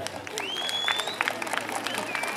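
Crowd applauding at a jaripeo contest in Santa Catarina Minas, Ocotlán, Oaxaca: scattered clapping mixed with loud whistles and crowd voices, lively and steady for a couple of seconds.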